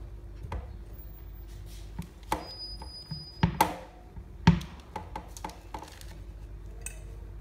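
A plate pressed onto braided Nutella bread dough to mark it, giving a few light clinks and taps at irregular intervals over quiet kitchen background.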